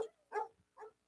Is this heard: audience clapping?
no